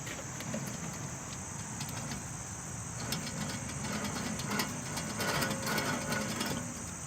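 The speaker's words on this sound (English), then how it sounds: "Hear that grinding?" A worn wheel bearing on a 2009 Toyota Camry gives a continuous low grinding whir with a faint high whine, steady and fairly quiet, with no voices.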